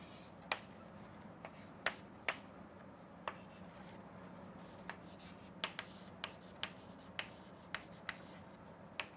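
Chalk or marker strokes on a board as a graph of a pn junction's characteristics is drawn, making faint, sparse ticks and short scratches spaced irregularly over a quiet background hum, with no speech.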